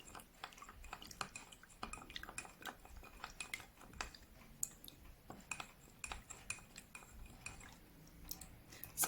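Honey and other ingredients are stirred in warm water, producing soft, repeated clinks and taps of a spoon against a container. The stirring is faint and steady, with small liquid sounds and no talking.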